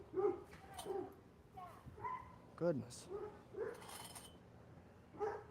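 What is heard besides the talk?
neighbor's dog barking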